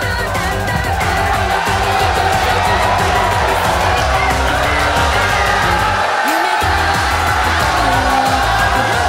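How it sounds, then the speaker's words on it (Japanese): A concert crowd at a fan event cheers and claps to welcome a singer for a mini live show, a loud continuous roar of whoops and shouts that holds throughout. "盛大な拍手でお迎えください"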